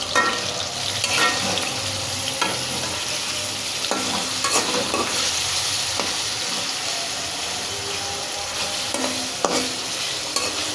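Noodles being stir-fried with chicken, onion and chili in a hot pan, a continuous loud sizzle broken by repeated scraping and tossing strokes of a spatula, with no talking.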